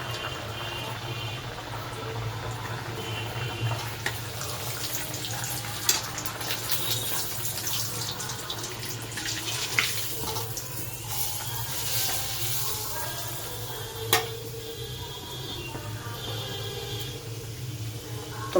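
Pea-stuffed kachori frying in hot oil in a kadai, a steady crackling sizzle with occasional sharp pops, moderately close and continuous without talk.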